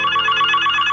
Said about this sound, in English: Oh, damn phone.